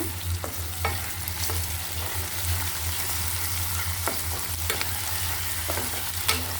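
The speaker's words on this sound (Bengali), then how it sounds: "এখানে এখন আমি তেলের সাথে পেঁয়াজের সাথে ভেজে নেব।" Onions fry in oil with cloves, cardamom and cinnamon, a continuous soft sizzle marked by occasional sharp scrapes and clinks of a stirring spoon, alone without voices.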